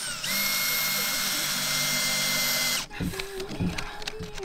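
Power drill driving a bit into wet wood while building a stone house, a loud sustained high-pitched whine for nearly three seconds that cuts off abruptly, followed by clatter and faint voices.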